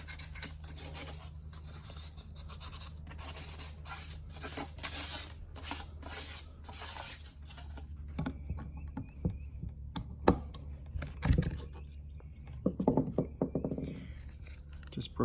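Rust is scrubbed off the mating surface of a waterlogged, long-neglected Yanmar boat engine in uneven bursts of close rasping strokes, broken by pauses and a few sharp metal knocks and clinks.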